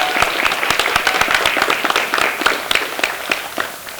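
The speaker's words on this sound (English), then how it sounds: "Let's give her a round of applause." A room full of people at a teachers' awards ceremony applauds, steady dense clapping close by, continuing without a break.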